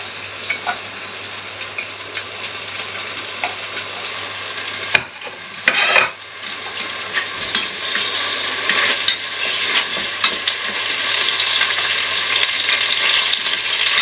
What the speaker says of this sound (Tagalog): If the oil is hot, kung yung mantika na ay yung mainit, isusutin natin yung garlic, bawang. Put the bawang.